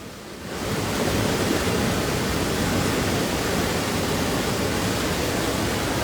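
A river overflowing after continuous heavy rain rushes and gushes loudly and steadily, as a dense roar that swells in over the first second and then holds constant.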